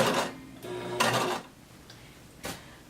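A sewing machine runs in short bursts, stitching understitches into the seam allowance of a halter crop top, with brief buzzing runs separated by pauses and small handling clicks.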